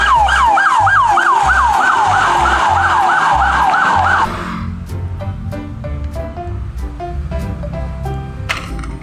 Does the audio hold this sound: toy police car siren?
yes